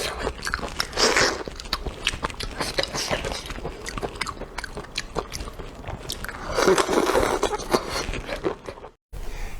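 Close, crunchy bites and chewing of food such as pork belly, pig intestine or sesame chicken thigh, with repeated crisp crackles and mouth sounds that swell in bursts and then stop briefly near the end.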